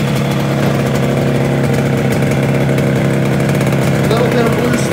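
A Yamaha RD350 two-stroke motorcycle idles up close, its engine running a steady, busy burble at an even loudness, with some talk in the background.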